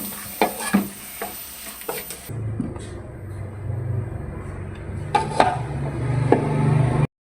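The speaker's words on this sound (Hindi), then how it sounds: "इसकी अच्छी तरह इसको हमने फ्राई कर लेना, क्योंकि इसके अंदर से इसकी स्मेल ख़त्म होनी चाहिए गोश्त की।" Chicken pieces frying and being stirred in a pot for palak gosht, a steady sizzle with scraping spoon strokes, louder clatter early on, close and continuous without talk.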